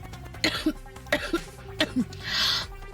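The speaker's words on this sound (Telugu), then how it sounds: "మాస్క్ రిమూవ్ చేస్తే నాన్ స్టాప్ గా దగ్గొస్తుంది." A person with a cold coughs repeatedly in short, sharp bursts at close range, a few quick coughs followed by a breathy exhale, in an indoor TV drama scene.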